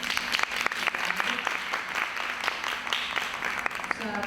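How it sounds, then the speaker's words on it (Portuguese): Audience applause at a national biolaw conference panel, a moderate patter of clapping hands with distinct sharp claps, heard against a steady low hum and murmuring voices in the room. "Uma salva de palmas."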